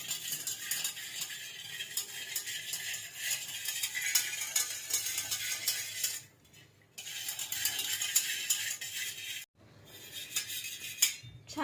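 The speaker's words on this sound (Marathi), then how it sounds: "अर्धा चमचा हळद पावडर आहे, मीठ टाकायचं चवीनुसार, आणि हे छान विरघळेपर्यंत मिक्स करून घ्यायचं।" A utensil whisks and scrapes rapidly around a bowl, mixing dhokla batter with turmeric and salt, a fast rattling clatter with two brief pauses.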